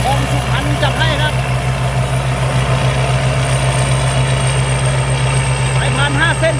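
Six-cylinder turbocharged direct-injection water-cooled Hino diesel engine on a twenty-year-old combine harvester, a loud, steady drone running close by with a voice speaking over it.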